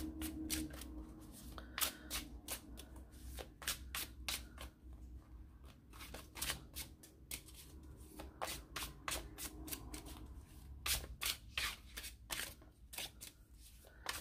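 Tarot deck being shuffled by hand during a card reading, a steady run of crisp riffling and flicking bursts close up with no talking.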